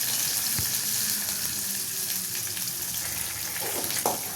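Cumin seeds, onion and curry leaves fry in hot oil for a pot of green gram sambar, giving a steady close sizzle throughout with a few brief stirring clatters and no talk.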